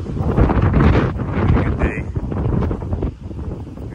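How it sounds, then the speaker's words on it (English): Strong wind buffets the microphone in loud, rumbling gusts on a sunny day walking St. Cuthbert's Way, holding steady and then easing slightly at the end. "Sunny, obviously windy"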